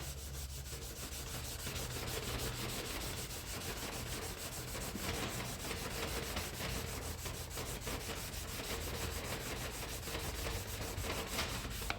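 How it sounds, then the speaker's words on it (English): Steady, continuous rubbing of abrasive paper by hand across a car's clear coat, light pressure, a dense even scratching hiss that runs unbroken for the whole stretch with no voices. "So I'm gonna sand a little bit,"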